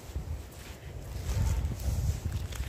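Strong wind gusts roar steadily through a forest clearing planted with wild garlic, a dense low rumble and buffeting against the microphone that swells in the middle and holds without pause.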